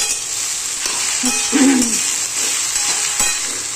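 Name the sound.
okra frying in a pan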